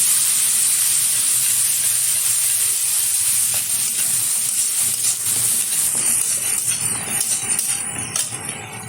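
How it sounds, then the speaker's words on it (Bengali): Garlic and ginger paste fries in a pan for a hotel-style egg curry, giving a loud, continuous sizzle and hiss that holds steady and grows slightly more uneven near the end. "এখন এর মধ্যে দিয়ে দেবো কিছুটা রসুন বাটা, কিছুটা আদা বাটা, ভালোভাবে কষিয়ে নেব।"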